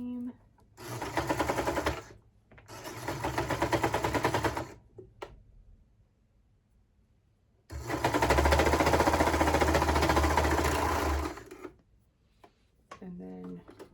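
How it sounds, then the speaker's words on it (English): A sewing machine stitches T-shirt seams at a half-inch seam allowance in loud, fast, rattling bursts of a few seconds each, with pauses between them and brief speech in the gaps. "And so now we're gonna just sew these with a 1/2 inch seam allowance."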